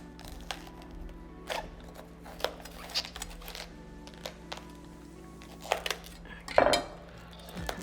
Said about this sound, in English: And I'm going to cut this middle hard part.